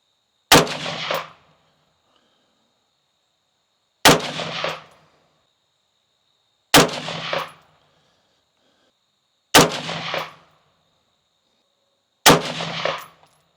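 Five sharp, loud rifle shots from a Palmetto State Armory JAKL firing Federal Power Shok 55 grain jacketed soft point rounds, evenly spaced about three seconds apart, each with a short ringing tail and silence between.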